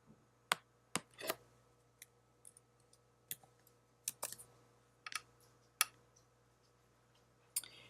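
Keys are tapped on a computer keyboard in a quiet room. The clicks come singly and in short bunches, spread unevenly across several seconds, and a faint steady hum sits underneath.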